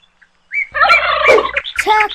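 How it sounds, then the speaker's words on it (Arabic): A turkey gobbles loudly and close, a rapid, throaty burst that rises and repeats briefly over about two seconds. "turkey"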